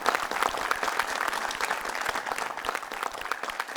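Spectators applaud a weightlifter's record lift in a continuous, fairly soft patter of clapping heard from a little distance.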